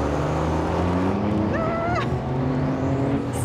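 A car laps a racetrack at speed, its engine droning steadily close up with a quick rising and falling rev in the middle, tire and wind noise underneath.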